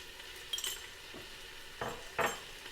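A small spoon stirring saffron in hot water in a little cup, giving three soft scraping clinks spaced apart in a quiet room.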